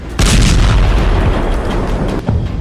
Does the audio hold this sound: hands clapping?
no